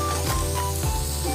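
Ingredients sautéing in a hot pan for a Filipino mussel soup (ginisa), a steady close sizzle and hiss with a few brief flares of stirring, no talk over it.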